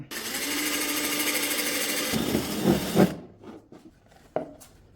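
Drill boring a hole through a plastic box, a steady high whir for about two seconds that shifts into rougher grinding bursts, then stops, followed by scattered handling knocks and clicks.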